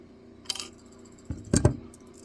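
Cutting a small piece off 10 carat gold solder for a ring repair, a couple of brief metallic snips and clinks, close and distinct against a quiet background.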